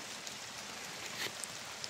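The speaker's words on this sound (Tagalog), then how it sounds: "Ay, ulan na guys oh." Steady soft hiss of rain falling, faint and even, with a few scattered drips standing out.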